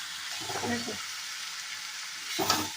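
Mutton sizzles steadily in a pan during kosha-style stir-frying, a constant close hiss of hot fat broken by two brief scraping stirs near the start and end, with no talk.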